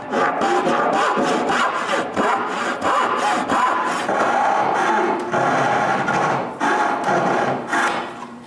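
Hand saw cutting dovetails in wood by hand, steady rhythmic rasping strokes back and forth, close and fairly loud throughout with no talking.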